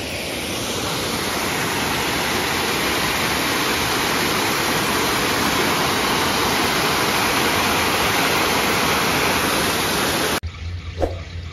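Water rushing steadily in a fountain or stream, a dense, loud, unbroken wash that runs for about ten seconds before cutting off abruptly into quieter ambient sound.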